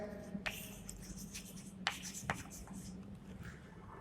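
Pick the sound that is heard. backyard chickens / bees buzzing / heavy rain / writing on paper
writing on paper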